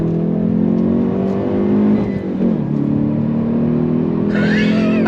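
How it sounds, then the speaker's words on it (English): A 2022 Hyundai Veloster N front-wheel-drive hot hatch holds a loud, droning engine note from inside the cabin, then dips and blips sharply on an automatic rev-matched downshift before settling back into a steady growl. "the sound, the automatic rev match downshifting"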